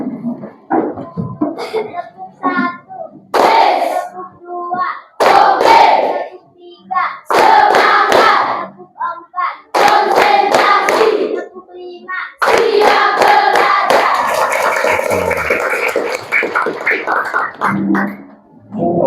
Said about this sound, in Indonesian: Oke, tepuk 5 tadi siap belajar.